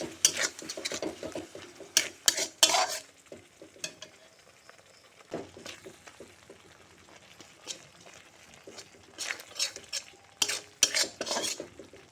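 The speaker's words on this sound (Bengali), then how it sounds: "টমেটো দিয়ে আবার মশলা ভালো করে কষিয়ে নেব" Ground tomato and masala stirred and fried in a pan for a fish curry with potato and cauliflower: bursts of scraping spatula strokes and sizzling at the start and end, with a quieter steady sizzle between.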